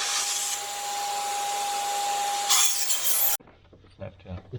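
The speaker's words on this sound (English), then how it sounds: "Cleaning everything with brake cleaner." Aerosol can of brake cleaner sprayed in a steady loud hiss onto engine parts of a Land Rover Discovery 3 high pressure fuel system, lasting about three seconds before cutting off to faint handling noises.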